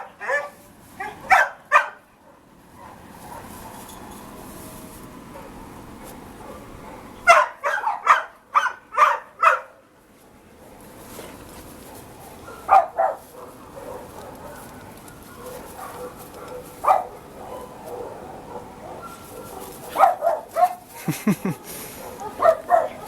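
Shelter dogs at the St. George Animal Shelter bark in scattered, sharp bursts while playing, with clusters of close barks separated by quieter stretches and people talking in the background.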